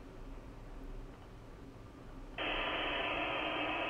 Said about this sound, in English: And now I'll turn the white noise on.